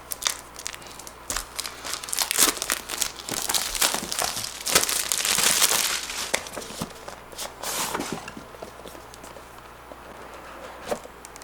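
Plastic packaging around an action camera is torn and crinkled open by hand, close-up rustling and crackling in irregular bursts that fade toward the end.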